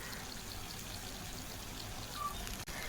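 Water pours steadily into a simmering pumpkin curry on the stove, a continuous close splashing trickle that ends in a brief clatter near the finish.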